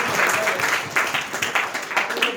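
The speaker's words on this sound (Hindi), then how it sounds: "तालियां हो जाए।" An audience claps together in a room, a steady patter of many hands for a couple of seconds with a few louder accents, near and moderately loud.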